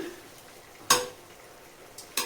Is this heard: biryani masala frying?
yes